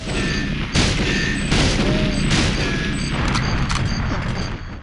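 Repeated booming blasts and crashes in a jungle level of a video game ring out over a constant noisy backdrop, several sharp bursts spaced a second or so apart, loud and close.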